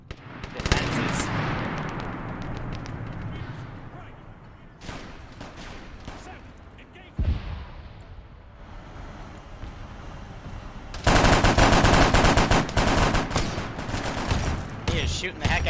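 Gunfire in a Warhammer 40k-themed Arma 3 mission, heavy bursts and booming shots at mid distance, an intense stretch early, scattered cracks, then a dense sustained barrage near the end, with speech mixed in at times.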